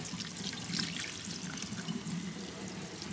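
Water rinsing crawfish, a soft, continuous splashing and trickling wash at close range with small irregular splashes, no speech.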